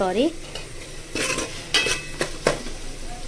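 Vegetable curry with masala being stirred in a pan for hotel-style vegetable biryani: a few quick scraping strokes of a spoon against the metal, with light sizzling in between.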